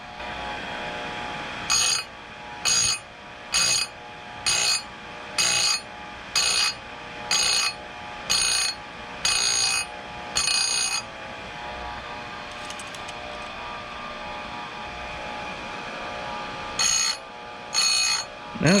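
Oregon 620 chainsaw sharpener grinding a chain, a run of evenly spaced bursts of bright grinding, each about half a second long, then a pause and a few more passes, close and loud with no speech.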